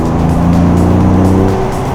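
2025 Ford Explorer ST exhaust note played through the cabin speakers, a loud, steady droning engine tone with rising harmonics, continuous and close, with no talking.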